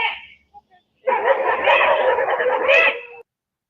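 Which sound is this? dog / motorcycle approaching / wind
dog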